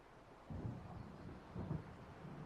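Low, distant thunder rumbles twice from an approaching storm over a lakeside town in Alan Wake, soft and muffled against a windy background.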